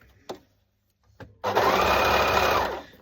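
A sewing machine stitches lightweight fabric in one steady, close run of rapid mechanical whirring lasting about a second and a half, preceded by a couple of faint clicks.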